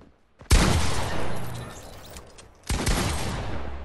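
Two sharp, loud gunshot blasts in a video game round: the first with a long, decaying rumble, the second about two seconds later, with no talking.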